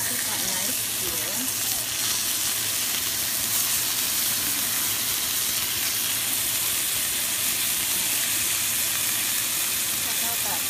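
Sirloin steak sizzling steadily in a hot pan after being flipped, a constant loud frying hiss that fills the whole stretch without letup.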